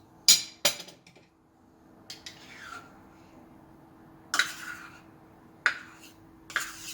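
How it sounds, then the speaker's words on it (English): A spoon mixes chocolate and egg yolk in a bowl, giving a few sharp clinks and scrapes at irregular intervals, with a faint hum between them. "The first time is the chocolate mixed together with the egg yolk like this one."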